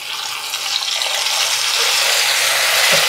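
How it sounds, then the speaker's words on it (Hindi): Water poured into a pan of frying spices with turmeric for a cabbage and masoor dal curry, giving a steady, loud hiss and sizzle that runs unbroken throughout. "थोड़ा सा हम डालेंगे यहाँ पे पानी।"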